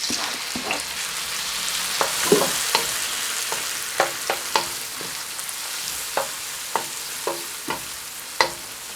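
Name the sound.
tomatoes and chili flakes cooking in a pan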